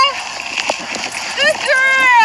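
A dog named Tessa splashing in drain water, with loud wet splashes and sloshing close by as excited voices talk and call over it.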